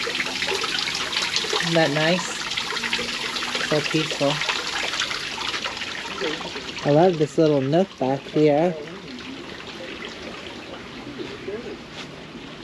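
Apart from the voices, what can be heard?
trickling water feature in a desert botanical garden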